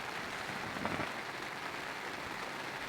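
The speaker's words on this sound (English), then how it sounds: "It's pouring." Heavy rain pours steadily on a hunting blind during a Massachusetts youth deer hunt, a dense unbroken hiss of drops drumming close all around, with no talk.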